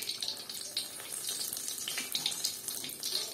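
Water pours off cooked Richeese cheese noodles as they drain, a steady splashing trickle like a running tap, close and continuous with no talking.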